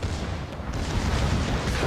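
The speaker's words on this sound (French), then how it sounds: "Et maintenant il est temps que je fasse tonner tous mes canons." Warship main guns fire a salvo in the naval battle game World of Warships, a heavy, continuous booming roar that fills the sound without pause.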